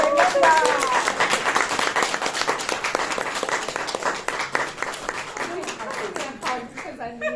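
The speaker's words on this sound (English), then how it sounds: "So please give a round of applause and welcome Rebecca." An audience at a London business event breaks into loud applause and cheering to welcome Rebecca. The clapping is dense and continuous, then thins toward the end as voices come through.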